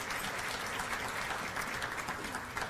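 Audience applause fills a hall at John Carroll University during a Catholic faith and culture event: steady, dense clapping from many hands, loud and continuous throughout.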